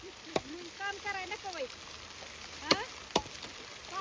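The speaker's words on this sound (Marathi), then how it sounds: "पाऊस भरपूर आहे" Steady rain falls in a broad, even hiss, with voices talking over it and a couple of sharp knocks.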